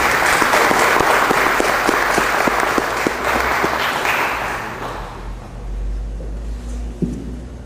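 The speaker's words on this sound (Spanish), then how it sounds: "Solicito un fuerte aplauso para nuestros invitados." An audience at a lecture and panel session applauds the invited speakers. Dense clapping is loud at first, then thins and fades over the last few seconds, leaving a quiet room with a final thump.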